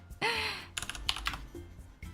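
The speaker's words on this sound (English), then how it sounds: "I'm typing GG well played right now." Fast clicking keystrokes on a computer keyboard, a short burst of typing heard close and fairly quiet, with a brief high tone near the start.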